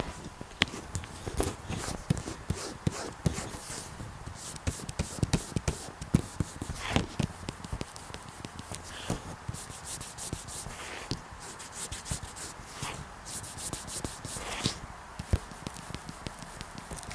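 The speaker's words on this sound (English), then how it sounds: "I want to take my mic and just kind of rub the surface of each of them so you guys can actually hear a comparison to how smooth they each are" A microphone is rubbed across dried gesso and dried wood glue surfaces, giving continuous close scraping and brushing friction with frequent small clicks and bumps, steady and moderately loud, with no talking.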